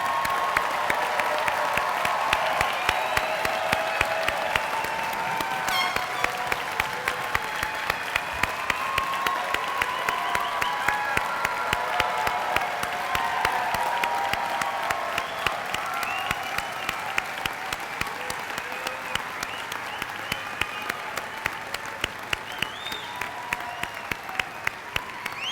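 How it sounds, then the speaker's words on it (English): An audience at a university graduate hooding and commencement ceremony gives the graduates a long, steady round of applause, dense clapping with occasional cheers, moderately loud and filling the hall without a break. "What about a very enthusiastic round of applause for all the graduates?"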